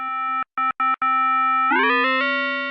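An FM synth tone from the ES2 synthesizer in Logic Pro, a steady harmonic drone broken by a few short gaps, then the pitch sweeps upward as the modulator is changed, shifting the overtones; clean, loud and alone.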